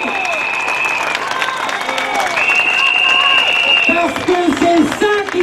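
Crowd applauding at an anti-bullfighting rally in Ales, France, steady loud clapping and cheering throughout, with whistles and raised voices mixed in.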